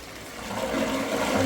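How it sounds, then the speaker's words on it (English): Dirty floor-cleaning water is poured into a toilet, a continuous close splashing rush of water that swells slightly louder over its short length. "So you just pour this in the toilet like it's just dirty water."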